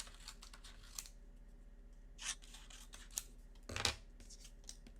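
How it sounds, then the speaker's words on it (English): Scissors snip yellow cardstock in a quiet room, a handful of crisp, separate cuts spaced irregularly, with one louder crunching snip near the middle and a faint background hum. "trim out little pieces of yellow cardstock to fit behind here"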